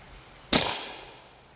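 A single Fiocchi subsonic 5.7 round fires, a sharp, fairly subdued crack followed by a brief decaying tail, alone with no talk.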